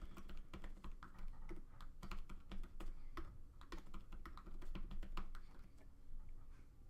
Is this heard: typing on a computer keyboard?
yes